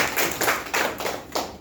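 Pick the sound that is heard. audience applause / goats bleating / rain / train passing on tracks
audience applause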